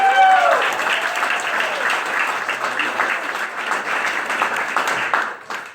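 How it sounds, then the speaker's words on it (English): Wedding guests applaud in a room after a ceremony, a dense, steady wash of clapping that holds loud for several seconds before tapering, with a few whoops and voices mixed in. "So if we could give them a round of applause."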